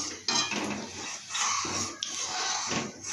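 Milk stirred in a pot for gourd payesh: a spoon scrapes and clinks against the metal pot in uneven strokes, close and fairly quiet, with a soft bubbling background and no talking.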